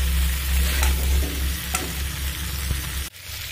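Potato and cauliflower pieces are sautéed with spices, giving a loud, dense sizzle with soft stirring strokes, then a sudden drop in sound near the end.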